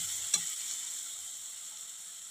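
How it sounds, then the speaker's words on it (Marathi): A paste of green chilli and garlic sautés in a pan, giving a steady, close, bright sizzle. A single light clink sounds near the start, and no one speaks. "आपल्याला हे वाटण 1 मिनिटभर छान असं परतून घ्यायचं आहे."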